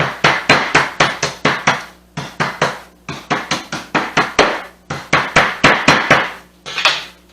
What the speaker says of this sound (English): we're going to bruise the lemongrass. Just take the handle of your cleaver or take a hammer